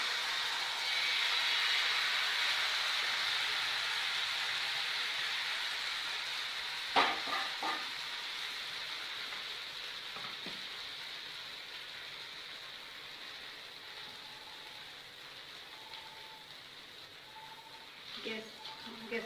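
Rice flour batter sizzles steadily in a lightly oiled pan for Assamese pani pitha, a soft continuous hiss close by, with a few brief clinks and scrapes near the middle and end.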